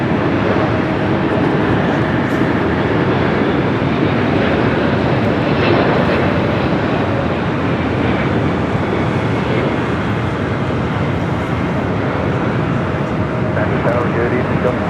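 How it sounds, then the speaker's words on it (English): A United Boeing 777-200 arriving from Honolulu at LAX gives a continuous loud engine rumble and rush throughout, with no clear rise or fall, while a voice talks over it. "United flight 1157 coming from Honolulu, 777-200 up next."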